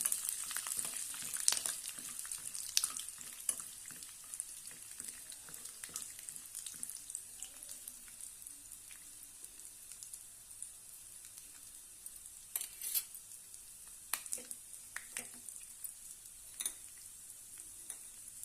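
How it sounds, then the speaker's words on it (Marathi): Green chillies and peanuts fry in a tempering of oil, a faint, steady crackling sizzle peppered with scattered sharp pops and a few clustered bursts, heard close with no talking. "थोडेसे शेंगदाणे घालूया छानपैकी एकत्र करून घेऊया"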